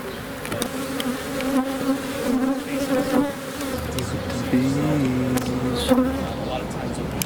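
Honeybees buzzing around a beehive colony, a steady close drone with shifting wingbeat pitches as individual bees pass near, plus faint handling noises in the background.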